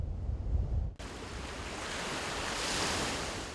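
Sea waves wash steadily onto a village beach at Palanan in northeastern Luzon, a broad continuous surf roar with wind, following a short muffled bump.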